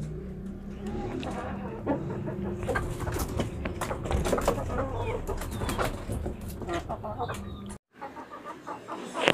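Australorp and desi hens cluck in a backyard coop, steady overlapping clucks and calls close by, with someone talking over them before a brief dropout.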